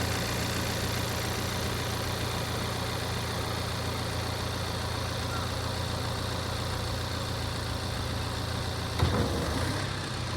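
Forklift engine running steadily at close range while the mast is raised, a constant low mechanical hum with one brief clunk near the end.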